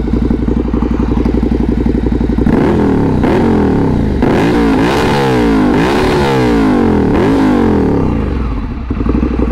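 A Ducati Monster 797 motorcycle engine runs loud and close, a rough lumpy idle rising into repeated throttle blips and revs that swell and fall back for several seconds.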